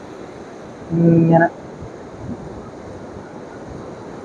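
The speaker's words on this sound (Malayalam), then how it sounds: "കുത്തിയൊലിക്കുന്ന വെള്ളച്ചാട്ടമാണ് നമുക്ക് ഇവിടുന്ന് കാണാൻ പറ്റുന്നത്." A gushing waterfall on the Nila river at Velliyamkallu heritage park makes a steady, broad rushing wash throughout. Someone briefly speaks over it near the start.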